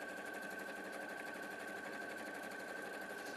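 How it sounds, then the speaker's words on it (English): A sewing machine stitches half-hexagon fabric pieces together in a fast, continuous rattling whir with a steady hum, close and uninterrupted throughout. "Let's sew that really quickly."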